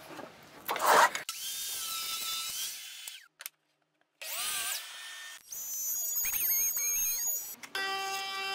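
A power saw cuts into the side of a wooden fence on a small cross-cut sled, giving loud bursts of whining, rasping cutting with short pauses and a couple of brief silent gaps between passes.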